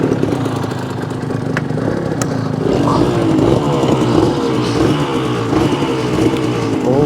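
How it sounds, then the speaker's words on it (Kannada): A Yamaha TZR250 two-stroke motorcycle revs hard on a Tokyo street, its engine note rising and falling steadily and loud throughout, with traffic noise around and no speech. "ಫುಲ್ಲು ಪವರ್ ಅಪ್ ಮಾಡ್ಕೋತಾ ಇದ್ದಾರೆ ಗಾಡಿನ"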